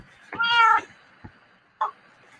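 Cat meowing in the video game Minecraft: a single clear, loud meow alone, followed by a couple of brief soft clicks or footsteps.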